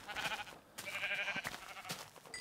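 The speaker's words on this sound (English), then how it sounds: "Don't have any shears, so I'm just gonna have to unfortunately kill you sheep." Minecraft sheep bleat in a game, with several wavering, nasal bleats overlapping in quick succession at close range and fairly quiet, with no talking over them.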